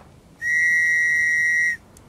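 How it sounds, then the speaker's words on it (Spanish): A single whistle blown in Stranded Deep sounds as a steady, loud, pure tone held for just over a second, starting and stopping cleanly over quiet background. "encontrando el chiflo este"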